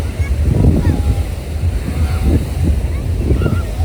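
Ocean surf rolls steadily onto a beach in Goa at sunset, a loud continuous wash of breaking waves with heavy wind rumble over the microphone and no clear talk.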